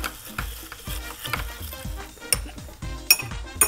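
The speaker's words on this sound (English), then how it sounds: "What we're going to do now is gently stir all our ingredients together" A bar spoon stirring a berry mojito of crushed ice and Bacardi Superior rum in a glass, giving repeated clinking strokes and icy rattles in a steady rhythm, loud and close with no talking.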